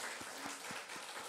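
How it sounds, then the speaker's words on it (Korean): Church congregation clapping together in greeting, a faint steady rhythm of about five evenly spaced claps heard from a distance over soft room noise. "같이 한번 일어나서 박수 인사 한번 하겠습니다"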